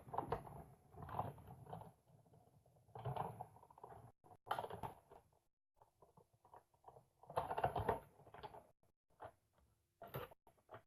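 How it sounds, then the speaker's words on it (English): A hand-cranked die-cutting machine feeding a detailed flower thinlet through its rollers several times, giving bursts of grinding, clicking mechanical rumble separated by short pauses, close and moderately loud. "I'm going to run these through a couple of times because it is a fairly detailed thinlet."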